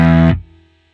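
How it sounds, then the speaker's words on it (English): A distorted bass tone through a Headrush amp model with its distortion effect, a loud sustained buzzing chord that cuts off sharply and rings out briefly into quiet. "I think I would have liked a distortion mix control rather than this gain, because it's the same amount of distortion"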